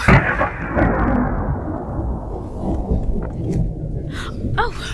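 A thunderstorm sound effect plays during a church stage production of The Sound of Music, with a loud crack at the start that rolls into long, heavy rumbling and fades slowly.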